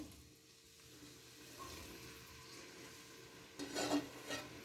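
Sliced onions drop into hot oil in a kadai, and a faint bubbling sizzle swells briefly near the end over a quiet kitchen background.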